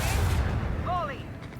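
Lance battery volley in Warhammer 40k Rogue Trader, a loud rumbling barrage of space-ship weapon fire with a sweeping tonal whine partway through, filling the short clip.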